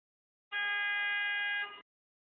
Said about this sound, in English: there was a loud honk just now